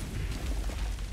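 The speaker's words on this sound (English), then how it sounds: "Explosions everywhere." Muffled booms and rumbling bursts from explosions in Vermintide 2 blend into a dense, faint wash of low noise over a second or so.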